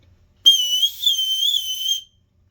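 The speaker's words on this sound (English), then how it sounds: "This is just like the quickest, easiest way to make a whistle." A homemade emergency whistle cut from a corn can gives one loud, shrill, wavering tone lasting about a second and a half, heard alone in silence.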